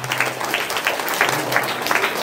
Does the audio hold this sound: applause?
yes